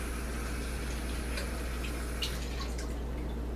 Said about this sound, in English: run it under the water